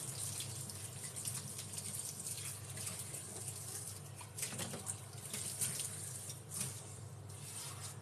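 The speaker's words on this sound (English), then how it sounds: "Just going to give my hands a little wash" Hands are washed under a running kitchen tap, a steady soft splashing stream with a few brief louder gushes, fairly quiet and continuous with no talking.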